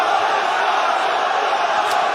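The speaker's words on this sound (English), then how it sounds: "This crowd is going berserko" Arena crowd at a kickboxing fight roaring and cheering in a dense, continuous wall of voices that holds loud and steady throughout.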